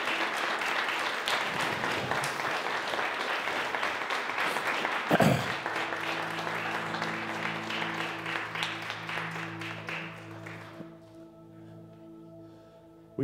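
A standing church congregation applauds a young man with a long, dense burst of clapping that tapers off, while sustained organ or keyboard chords enter partway through and carry on as the clapping fades.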